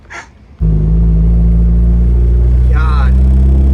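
A 400-horsepower Mazda Miata's engine kicks in abruptly and then drones steadily and loudly from inside the cabin while driving, a deep sustained hum with a brief voice over it near the end.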